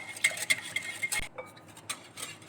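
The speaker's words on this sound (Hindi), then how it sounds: "एक बाउल में लेंगे आधा कप दही। इसे हम अच्छे से मिक्स कर लेंगे" Half a cup of yogurt is whisked in a bowl with a spoon, producing quick, light clinks and scrapes against the bowl in an uneven rhythm, close and fairly quiet.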